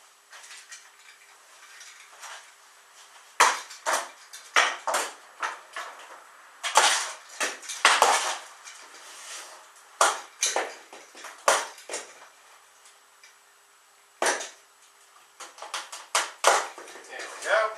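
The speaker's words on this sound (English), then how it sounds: "let me get a knife and we'll get this thing open" Packing straps sliced and a cardboard box for a WEN 12 x 18 inch five-speed lathe pried open with a knife, heard as scattered sharp snaps, scrapes and clunks in bursts over a quiet room.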